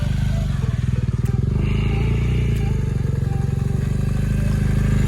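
A motorcycle engine idles and pulses steadily in first gear during slow turning exercises on a training ground, a close, constant low rumble with a brief throttle change near the start.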